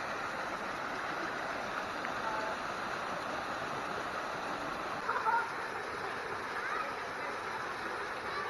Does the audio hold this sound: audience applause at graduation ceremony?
no